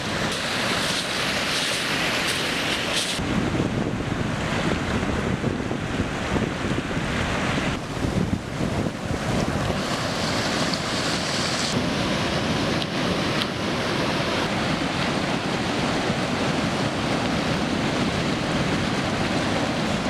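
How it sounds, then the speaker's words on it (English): Ocean waves roll where a tidal river flows into the sea, a continuous roar of surf mixed with heavy wind buffeting the microphone. The noise stays fairly loud and unbroken throughout, and no voices are heard. "I'm going to follow it and see where the tide takes me, which for this river turns out to be right into the mouth of the ocean."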